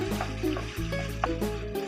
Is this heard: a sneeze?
no